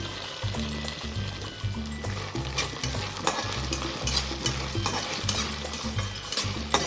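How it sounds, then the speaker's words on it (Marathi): Tomatoes and sauce sizzle in a hot pan for Marathi fodnicha rice while a spoon stirs and scrapes in a repeated rhythm, close and fairly loud, with no talking. "आता आपण त्याच्यामध्ये ॲड करूयात टोमॅटो. आता मिक्स करूया मस्त."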